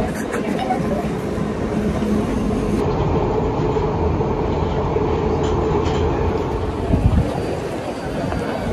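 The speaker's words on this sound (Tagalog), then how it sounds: "Ito pala yung tren." A London Underground tube train rumbles steadily near Covent Garden station, a continuous loud roar of rolling wheels and carriage noise with a brief clatter near the end, no voices heard.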